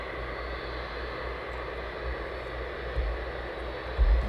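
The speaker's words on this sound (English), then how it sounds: "And William says Ryanair. Number 2 final from Alicante" A Ryanair airliner on final approach to East Midlands Airport gives a continuous, distant engine roar with low rumble. The sound is steady and heard alone, with no voices.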